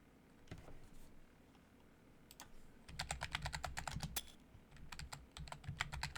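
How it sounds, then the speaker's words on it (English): Fast computer-keyboard typing during a stream, quiet at first and then rapid bursts of crisp key clicks in irregular runs. "I was typing in the chat up there."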